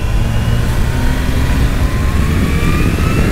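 A Kawasaki H2 motorcycle at full throttle with assists switched off except the quickshifter, heard as a loud, steady engine roar with the pitch rising gradually, plus heavy wind rush, no speech.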